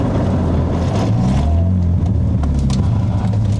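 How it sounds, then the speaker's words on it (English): A BMW E36 engine revs steadily and close with a rough, grinding undertone running through the whole stretch, with no talk. "There's definitely something grinding up there."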